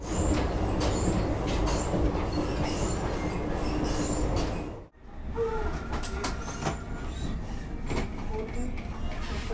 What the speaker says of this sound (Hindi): वंदे भारत पहुंची बिल्कुल राइट टाइम इंदौर।